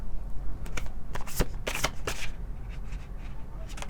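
A Shaman's Dream Oracle card deck shuffled by hand, a run of crisp riffling flutters and soft card slaps, close and fairly loud, with no voice over it.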